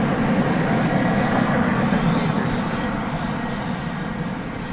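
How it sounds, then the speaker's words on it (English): An American Airlines Boeing 737-800 departs DFW Airport at night, its engines a loud, steady broadband roar that fades slightly over several seconds. "American Flight 341 departing for Santa Ana on the 737-800"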